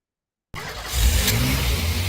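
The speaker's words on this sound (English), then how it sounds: "let's give an engine." A car engine sound effect played back inside Reality Composer while building an AR experience, starting abruptly after a short silence and holding a steady revving roar.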